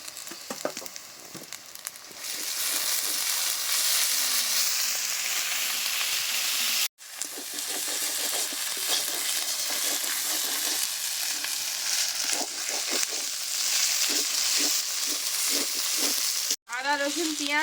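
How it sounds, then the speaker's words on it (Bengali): Onion, curry leaves and ginger paste fry and sizzle steadily in a pan, with occasional scraping stirs and brief pauses in the hiss; no one speaks. "তো আমি কারি পাতাটা দিয়ে আমি আবারও খুব ভালোভাবে মিশিয়ে নিচ্ছি।"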